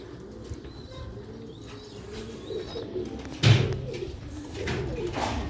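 Sialkoti silver-roofed pigeons, a pair of male and female, coo softly amid low rumbling background noise, with a louder flutter or thump about midway and faint chirps scattered throughout.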